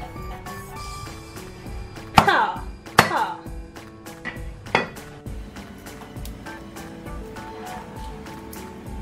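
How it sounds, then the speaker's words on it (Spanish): A knife chops garlic on a board in a kitchen, giving a handful of sharp, close knocks and clinks at uneven intervals over a low background hum. "ahora cortamos el ajo"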